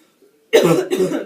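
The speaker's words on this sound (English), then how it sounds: "I'm having a coughing fit" A short coughing fit: two harsh coughs in quick succession, close and loud.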